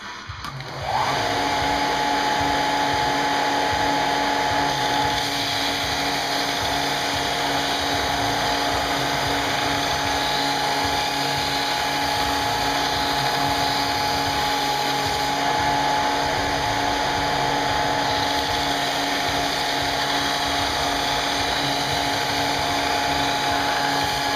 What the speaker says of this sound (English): we're just using the belt sander, and we're putting just a little bit of a bevel to make it look like it's got an actual blade